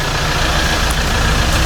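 A vehicle engine idles in a steady, loud, even drone that stays unchanged from start to finish, with no voices over it.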